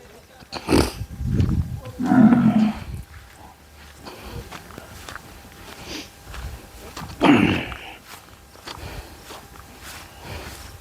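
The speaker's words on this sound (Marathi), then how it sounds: "बैलांना शंकर नाव आहे" A bull at a farmhouse cattle shed gives several deep, loud, drawn-out bellows, with shuffling hooves and movement between them at close range.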